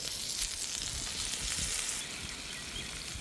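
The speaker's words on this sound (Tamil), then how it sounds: "அப்படியே மீனை எடுத்துக்கிறேன் எடுத்து இப்படி ஒரு அமுத்து எண்ணெயில் வச்சு" Masala-coated rock fish frying in oil, a loud, bright, continuous sizzle close up, without talking.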